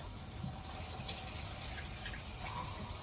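Tap water running gently over potatoes in a kitchen strainer, a steady soft hiss and splash of flow heard alone and fairly close.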